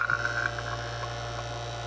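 An NP8DSV vacuum pump runs in oil test mode, pulling down with a steady, continuous motor hum and drone that stays level and unbroken, with no talking.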